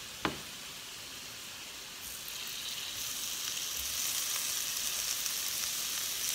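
Mushrooms drop into a pan of boiling liquid for a Thai mushroom dish, with one sharp splash at the start and then a steady broad hiss and bubbling that grows slightly louder and carries on without voices.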